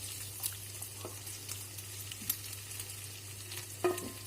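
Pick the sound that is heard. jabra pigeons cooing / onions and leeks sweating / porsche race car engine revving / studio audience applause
onions and leeks sweating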